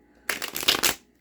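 Tarot cards being shuffled in one quick, close riffle lasting under a second, a crisp dense flutter heard alone in a quiet room.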